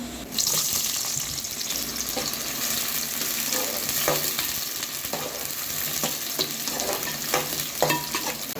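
Chopped onions and garlic fry in oil for a spicy masala vegetable pasta, a continuous close sizzle with scattered stirring scrapes and spatters, no voices.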